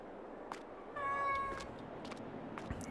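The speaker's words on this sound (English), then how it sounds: "we also have cats here." A cat gives one clear, drawn-out meow mid-clip, with a few fainter cries before and after over a constant low background noise; no one speaks.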